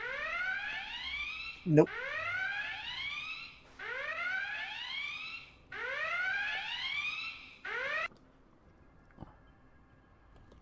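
An alarm sound effect plays during an Anarchy Online live stream: repeated rising electronic whoops in three long pulses, loud and close, with a brief spoken word between them and then quiet.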